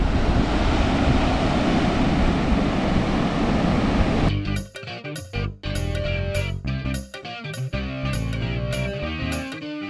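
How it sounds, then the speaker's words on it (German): Ocean surf on the coast of Gran Canaria roars as a loud, steady rush mixed with wind for about four seconds, then gives way abruptly to choppy, broken sounds. "Also die Wellen sind auch richtig geil hier."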